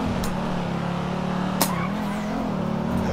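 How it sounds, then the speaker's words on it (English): Car tires screeching in GTA 5 over a droning engine, with a rising squeal sweeping through the middle and sharp transient clicks, loud and close, no speech during it. "Y'all hear them tires screeching"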